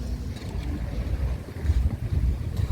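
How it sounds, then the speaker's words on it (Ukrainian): Rough sea off Odesa after a night storm, with waves surging and washing in a steady low rumble, buffeted by wind noise on the microphone and no voices. "Подивіться, які хвилі."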